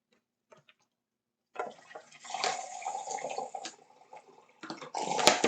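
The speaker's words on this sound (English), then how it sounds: "Pour into the cup." Gatorade Cool Blue sports drink poured from a bottle into a cup, a close trickling splash after a moment of silence, pausing once and then resuming with a final clink.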